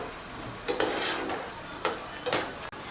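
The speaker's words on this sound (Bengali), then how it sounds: "তো এখন আমি মিনিট 2-এর মতো এটাকে নাড়াচাড়া করে নিচ্ছি।" Tomato paste is stirred in a pan while cooking, a soft background sizzle broken by several distinct scraping strokes of a utensil against the pan, spaced irregularly, close and unaccompanied by speech.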